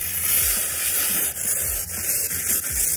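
Steady broadband hissing spray runs throughout, a spray bottle misting rinseless wash onto a car, with faint low rumbles underneath and no voices.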